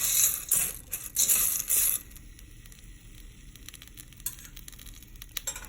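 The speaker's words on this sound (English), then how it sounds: "So we're just going to go ahead and fry it so they could get nice and brown." Shell pasta frying in a pan with garlic and onion for Mexican sopa de conchas, a bright close sizzle that is loudest in the first two seconds, then settles into a quieter steady crackle with faint stirring clicks.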